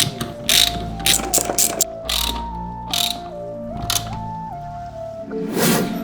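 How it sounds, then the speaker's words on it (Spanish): A socket wrench with a size 19 socket ratchets nuts tight while a gun safe is installed, loud repeated clicking bursts over a steady mechanical hum, close up. "Ahora con un vaso, en este caso de 19, procedemos a apretar"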